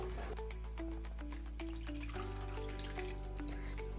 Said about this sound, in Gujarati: થોડું પાણી એડ કરી દીધું છે.